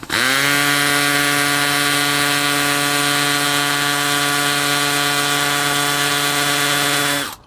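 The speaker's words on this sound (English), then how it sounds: "I have the drill on hammer, and I have it on gear number 1" A DeWalt Flexvolt DCD999 hammer drill in hammer mode, first gear, drills a 3/4 inch hole, running loud and steady for about seven seconds, a continuous high whine with a hammering buzz, then stops abruptly.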